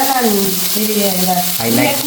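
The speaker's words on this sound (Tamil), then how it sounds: "உருளைக்கிழங்கு நல்லா பொரிக்குதா" Steady crackling sizzle of potatoes frying in hot oil, continuous and close, with some clattering stirring sounds.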